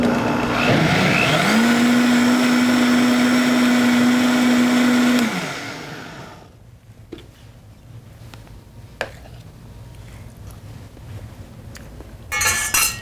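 A blender whirs loudly through a dark chocolate ice cream mixture for about five seconds, then stops and leaves quiet clinks of the jar and utensils.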